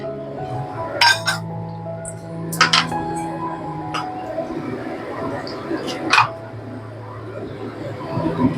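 Small spice bowls clink against each other during washing, with several sharp ringing taps spread out over running background noise while a person talks nearby.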